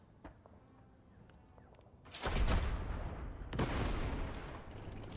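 World War II tank guns fire in Total Tank Generals during Operation Torch: two heavy booming blasts with rumbling tails break a quiet stretch of faint clicks.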